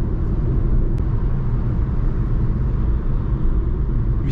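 Steady low rumble of a 2021 Fiat Egea Cross Lounge Plus engine heard from inside the cabin while driving, continuous and even with no clear break for a gear change.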